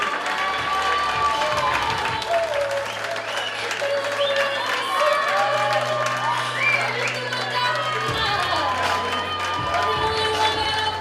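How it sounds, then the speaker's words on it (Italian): An audience claps warmly for a beauty pageant contestant at a regional final, sustained applause with scattered cheers and a host's voice talking over it, while music plays underneath. "Come sempre con il vostro caloroso applauso per Nadia."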